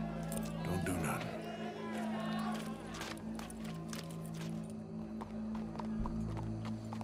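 Horse hooves clip-clopping in Red Dead Redemption 2 amid a crowd scene, a steady run of faint hoof beats under continuous talk and background game sound.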